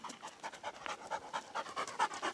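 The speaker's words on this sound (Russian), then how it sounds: "Он же все-таки охотничья собака, поэтому он думает, что он на работе." A hunting dog pants close by in quick, regular breathy bursts, about four or five per second, with nothing else audible.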